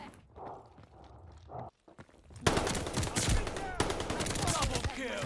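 SMG fire in Call of Duty Vanguard multiplayer: after a quieter stretch with a brief pause, dense rapid bursts of automatic gunfire break out close and loud and keep going to the end.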